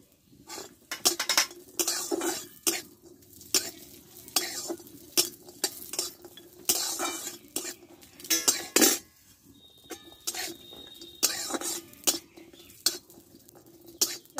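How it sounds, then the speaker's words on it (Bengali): Cashews and raisins frying in ghee in a pan, with a spoon stirring and clinking against the metal in repeated bursts over a soft sizzle, close and without talk. "কাজুটা একটু লাল লাল করে ভেজে নিব। এবার দিব কিশমিশগুলো দিয়ে দেবো।"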